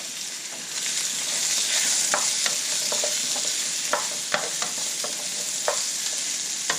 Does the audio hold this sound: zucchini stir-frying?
yes